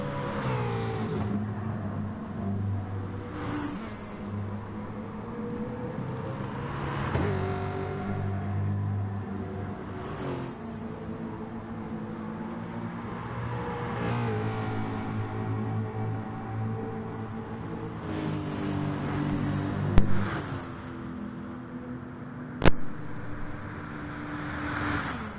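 Racing cars drive past on a circuit in an endurance race, engines droning and swelling steadily with repeated pass-bys, and two sharp clicks near the end.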